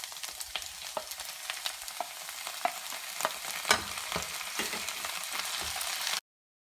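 Half a kilo of prawns sizzle in a pan with curry leaves, a steady close frying hiss punctuated by repeated clacks and scrapes of stirring, then abrupt silence at the end.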